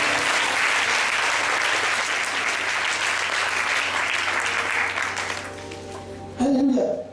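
A church congregation bursts into sustained, dense applause and acclaim for God, a loud roar of clapping that holds steady and then fades out as a voice briefly sounds near the end.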